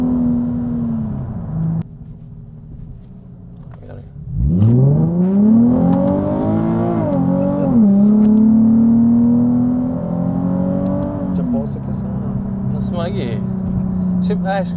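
A Nissan 370Z engine idles low, then surges into a loud, rising acceleration whose drone climbs steadily in pitch and holds strong before easing back to a steady cruise.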